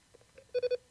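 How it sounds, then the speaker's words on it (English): A telephone rings for an incoming call on a live talk show, three short electronic warbling bursts in quick succession, fairly faint, with no talking. "We have a phone call."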